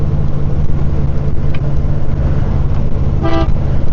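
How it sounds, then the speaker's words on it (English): Horn of a 1956 Ford Thunderbird with a 312 Y-block V8 gives a short, loud toot near the end over the steady rumble of the car driving down the road. "it's got a loud horn too"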